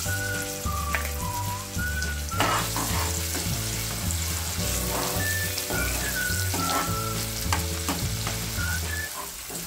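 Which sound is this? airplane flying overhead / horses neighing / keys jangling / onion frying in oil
onion frying in oil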